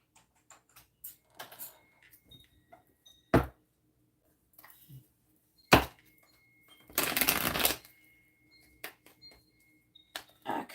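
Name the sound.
shuffling tarot cards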